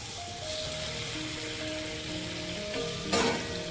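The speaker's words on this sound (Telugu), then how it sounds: "మసాలా కలర్ చేంజ్ అవుతుంది అంటే వేగుతుందనమాట" Masala for stuffed brinjal curry frying in a pan, a steady low sizzle close by, with a short scrape of stirring near the end and no one speaking.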